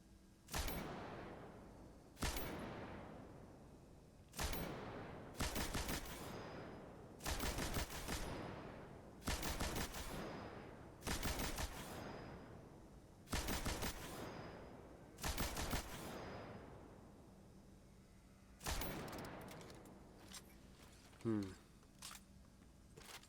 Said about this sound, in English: Essentially, fusion rifle, it charges up, it shoots a burst.